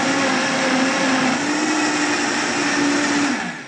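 A Vitamix blender on its highest setting blends an avocado colada smoothie, a loud, steady motor roar holding a constant pitch for several seconds before winding down at the end, with no voices.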